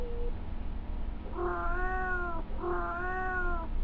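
A cat gives two drawn-out meows about a second apart, clear and close over a low background hum, with a faint short tone just before.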